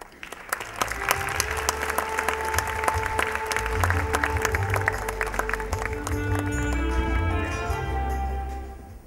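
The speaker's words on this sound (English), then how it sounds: "round of applause for Yang Bahagia, Dato' Dr. Wee, to deliver a speech now" A loud round of audience applause at a charity event welcomes a speaker to the stage, dense clapping with sharp individual claps standing out, steady throughout and tapering slightly at the very end, with a low rumble of hall noise underneath.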